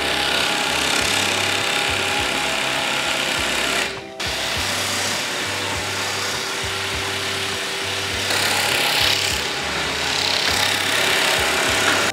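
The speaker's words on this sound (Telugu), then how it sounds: "ఇప్పుడు మ్యాట్రస్ ఎట్లా స్టిచ్ చేస్తారో కూడా చూస్తాం" A stitching machine works on a latex mattress, running in a loud, busy mechanical chatter with rhythmic pulses, pausing sharply once before starting again and continuing steadily.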